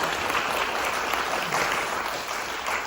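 An audience at a local business ecosystem talk applauds steadily, welcoming the CEO of Jeju Sanghoe to the stage; a dense, even wash of clapping that holds for its whole length.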